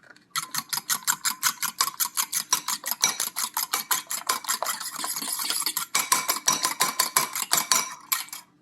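Three eggs with vanilla essence whisked hard in a bowl, a fast steady scraping, tapping beat about five strokes per second, close and continuous for several seconds, no voices.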